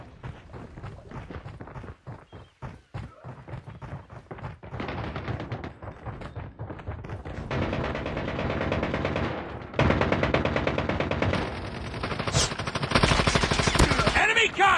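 Call of Duty gameplay with rapid bursts of automatic gunfire and heavy shots, loud and dense, growing into sustained machine-gun fire with voices shouting over it.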